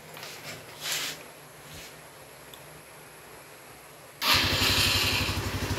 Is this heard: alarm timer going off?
no